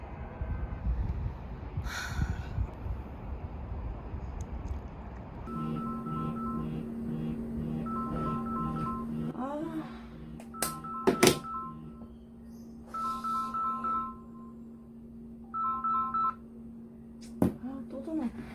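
An unanswered phone call rings out in a domestic setting with repeated steady electronic tone bursts in a regular pattern, mixed with rustling and a few thumps.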